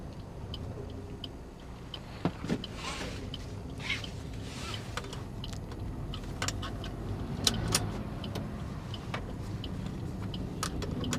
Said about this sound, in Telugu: ఫుల్ క్లచ్ పట్టుకొని ఫస్ట్ గేర్ వేసుకొని మూవ్ చేయండి